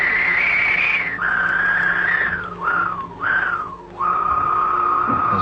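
A Synthi 100 synthesizer gives a whistle-like tone that holds, slides downward in several dips and then settles on a steady lower pitch, with a long decay, loud and without any voices.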